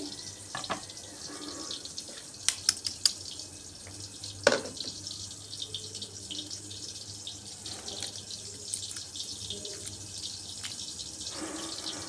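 A kitchen tap runs steadily over hot boiled eggs as they are peeled, a continuous close splash broken by a few sharp taps and clicks of shell and bowl.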